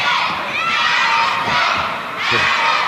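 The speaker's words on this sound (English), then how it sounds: "Starting to get the crowd involved now, rooting for her." Loud crowd at a grappling match cheering and shouting in sustained waves, dipping briefly and then surging again.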